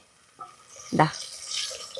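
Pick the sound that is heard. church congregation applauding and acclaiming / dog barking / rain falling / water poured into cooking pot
water poured into cooking pot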